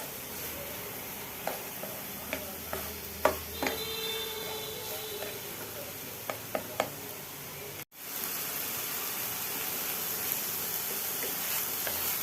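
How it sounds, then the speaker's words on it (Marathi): A thick mixture of soaked garden cress seeds is sautéed and stirred in a pan, giving a steady hiss with a series of spoon taps and scrapes. After a brief cut, a louder, continuous sizzle follows. "हे पहा, ह्या पद्धतीने आपण याला 6 मिनिटं परतून घेतोय"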